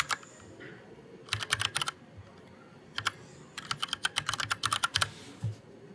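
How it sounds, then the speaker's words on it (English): Keystrokes on a computer keyboard while an email address is entered, heard as two quick bursts of close, crisp clicks separated by a short pause, with no talking. "Type in your email."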